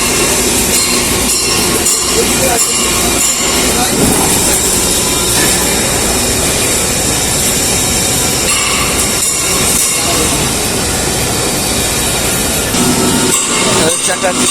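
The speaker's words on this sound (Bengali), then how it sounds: "চাকাগুলোকে ঘষে মসৃণ করা হচ্ছে এখানে" A machine in the Saidpur railway workshop grinds train wheels smooth, making a loud, continuous, dense roar with metallic grinding that stays steady throughout.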